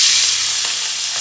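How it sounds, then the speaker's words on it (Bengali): Small fish sizzle loudly in hot mustard oil with turmeric in a kadai, a steady close hiss of frying with no talk. "এই মাছগুলোকে ভেজে নেবো"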